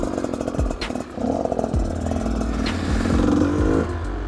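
A motorcycle engine revving during wheelie training, loud and close, with repeated throttle surges and gear-change drops over a steady rough idle.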